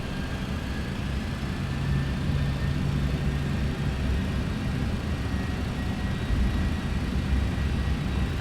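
Steady, loud, broadband roar from the engines of a UPS MD-11F cargo jet running at takeoff thrust, a dense continuous rumble with heavy low end that holds constant throughout, with no voices.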